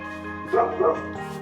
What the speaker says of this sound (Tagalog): ngayon lang din ako nakarinig na may kumakahol na aso